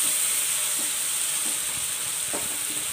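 Onion and garlic-green chilli masala paste fry in oil for chicken biryani, a dense, even hiss of sizzling with soft scraping strokes of a spoon, close and steady.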